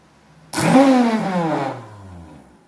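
A multi-function blender switched on at high speed, bursting into a loud whirring motor roar that holds briefly and then winds down, heard close with no talk.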